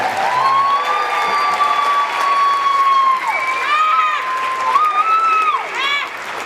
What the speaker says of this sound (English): you guys give the kids one more round of applause